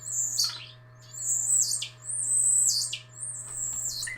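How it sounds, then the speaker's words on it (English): A pet bird chirps indoors in four clear, repeated bursts of bright, sliding tweets, each followed by a short pause, with a steady low hum running underneath. "Quiet, bird."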